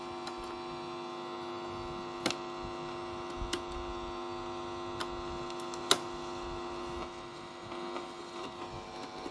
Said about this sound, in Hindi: मोटर का आवाज़ आ रहा है तो ये घूम नहीं रहे हैं